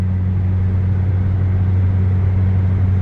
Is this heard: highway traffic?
yes